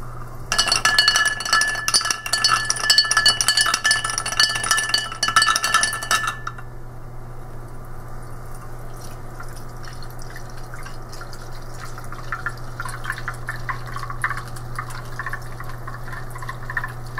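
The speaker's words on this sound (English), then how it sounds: "my sulfuric acid is right here, and I'm going to pour some in." Sulfuric acid pours from a glass container into a solution in a chemistry demonstration. A bright, splashy trickle lasts about six seconds, then gives way to quiet drips and faint clinks near the end.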